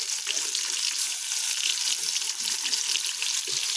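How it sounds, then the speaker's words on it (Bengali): Hilsa fish frying in plenty of hot oil in a wok, with a dense, continuous hissing sizzle, close and fairly loud, with no talk. "ইলিশ মাছ ভাজবো।"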